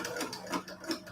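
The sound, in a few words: sewing machine running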